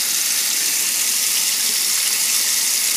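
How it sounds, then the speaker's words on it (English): Yellowjacket trap liquid, holding tuna, sugar and attractant, is poured into a strainer at a sink, giving a steady, loud, continuous splashing gush with no voices. "I'm going to pour the contents of the trap into this strainer just so we can catch the yellow jackets"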